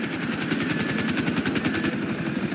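A helicopter in the GTA 5 video game, a chopper arriving during the Bureau Raid mission, with loud fast rotor chopping pulsing steadily and close over a low engine drone, no speech.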